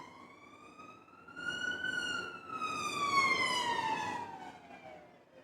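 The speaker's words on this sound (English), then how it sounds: "Also, siren." Siren wailing at moderate distance, its pitch sliding up and then down in one long sweep as it swells louder midway and fades toward the end.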